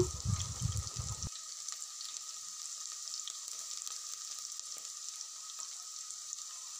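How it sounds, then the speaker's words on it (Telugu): Onion and green chilies fry in a pan, a soft, constant sizzling hiss that follows a brief low rumble at the start. "ఇవన్నీ మంచిగా ఫ్రై అయ్యాక ఆనియన్ అండ్ మిర్చి అయితే వేసేసుకున్నాను"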